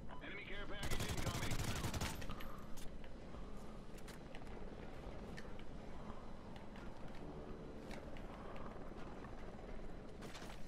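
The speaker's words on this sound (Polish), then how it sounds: "Czyżbym słyszał strzał?" Rapid gunfire from the video game Call of Duty: Ghosts multiplayer, with a loud burst early on followed by sustained scattered shots and mechanical clatter.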